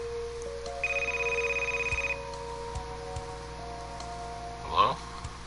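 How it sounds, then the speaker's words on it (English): Telephone ringing in the video game Pantsu Hunter, a short electronic trill burst lasting about a second amid soft background game sounds, followed by a brief higher chirp near the end. "I hear the phone ring."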